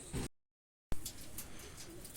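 White pigeons coo softly in short bursts, separated by a brief silent gap, with faint background noise around the calls.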